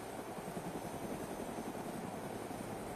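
A helicopter in a video game gives off a steady, even rotor drone and engine hum, continuous and moderately loud throughout, with no talk over it.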